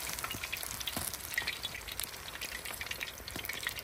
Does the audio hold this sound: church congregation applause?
no